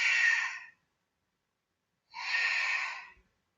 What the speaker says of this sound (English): Hopefully you can hear my breathing from there.